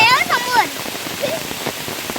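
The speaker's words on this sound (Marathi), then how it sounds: "पाऊस मोठा आला आहे मंडळी." Heavy rain pouring down steadily outdoors, a dense hiss of drops hitting surfaces, partly under a brief voice and squeaky chatter at the start.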